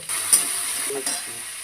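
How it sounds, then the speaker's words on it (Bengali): Pumpkin frying in hot oil with bay leaf, dry chilli and five-spice, a loud, steady sizzle close by with a stirring scrape partway through. "তেজপাতা শুকনো লঙ্কা দিলাম এরপরে পাঁচ ফোড়ন দিয়ে দিলাম কুমড়ো দিয়ে দিয়েছি একটু হলুদ"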